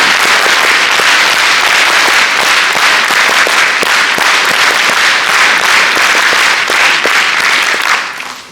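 Loud, sustained applause from a crowd at a school event, dense clapping continuing for several seconds before fading out at the end.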